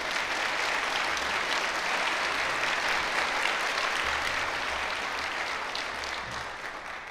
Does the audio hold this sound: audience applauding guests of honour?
yes